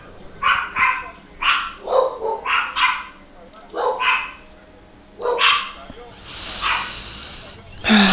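Several dogs barking in short repeated bursts close by, loud and rhythmic, with a pause and then a longer harsher yelp, voices in the room faintly audible underneath.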